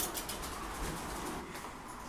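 Pigeons coo outside their loft on a rainy day, with a low, soft cooing rising faintly over a constant background hiss, at a moderate distance.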